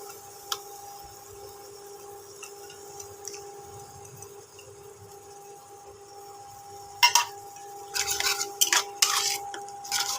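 A spoon stirs and sautés a Bengali egg omelette curry with yogurt in a pan. A faint sizzle and steady hum run underneath, followed by a cluster of sharp metallic scrapes and clinks near the end.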